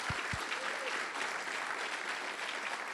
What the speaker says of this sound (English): So I would like to quickly start with a round of applause for Jen.